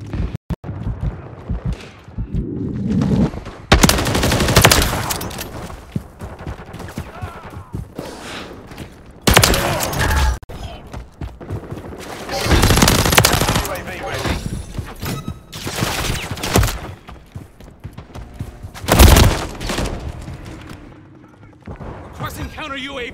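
Gunfire from the Call of Duty Modern Warfare III multiplayer beta: repeated loud bursts and single shots, close and harsh, mixed with explosions and battle noise. Squad callouts are spoken over the fighting.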